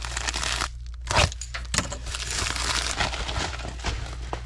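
A blade slices through the tape and cardboard of a heavy shipping box, giving crinkly tearing and scraping noises with a couple of sharper rips, close and fairly quiet.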